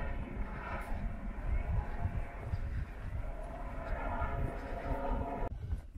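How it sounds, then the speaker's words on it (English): A helicopter dumping water on fires over Killarney National Park in Ireland gives a continuous droning rumble overhead, steady and moderately loud for several seconds before dropping away sharply at the end. "a helicopter probably going dumping water on the fires in the Killarney National Park"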